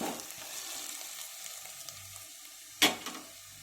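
Washed cauliflower pieces tipped into a hot pan for a cashew curry, a quiet, low sizzle with a sharp clatter as the pieces land and a smaller knock just after.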